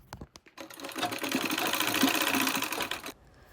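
Sewing machine stitching the fold of a fabric scrunchie: a few quick clicks, then a steady rapid run of stitches for about two and a half seconds that stops abruptly, close and without talk.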